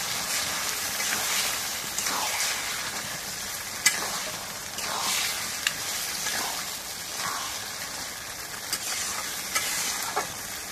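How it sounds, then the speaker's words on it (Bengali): Mutton frying with spices in a pan during home cooking, a steady sizzle with a spoon stirring and scraping the meat, including several sharp clanks against the pan, with no talking. "এখন মাংস দিয়ে রেখে দিয়ে কষাই নিই"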